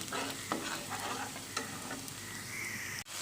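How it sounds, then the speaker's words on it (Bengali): Onion fries with cardamom, cinnamon and bay leaf in a pan, a quiet steady sizzle broken by several scraping stirs, ending in a brief clatter. "পেঁয়াজের সাথে হচ্ছে এলাচ দারচিনি তেজপাতা দিয়ে দিলাম ভালোভাবে ভেজে নেব এখন"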